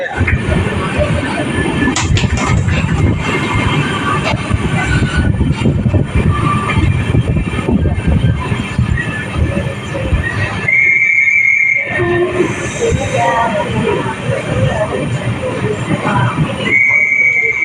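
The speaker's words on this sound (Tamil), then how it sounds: "விருதுநகர் ஸ்டேஷனோட பிளாட்ஃபார்ம் நம்பர் 2 தாங்க நம்ம ட்ரெயின் வந்து இப்போ ரீச் ஆகிருக்கு." Passenger train rolling and clattering on rails as it pulls into platform 2 at Virudhunagar station, with screeching brakes and station noise throughout.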